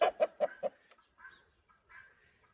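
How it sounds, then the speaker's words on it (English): Four quick, loud clucks from a very large chicken, about 1.5 feet tall, close by in the Southern Flinders, South Australia, followed by a few softer, scattered murmuring clucks. "I've come across these enormous chickens"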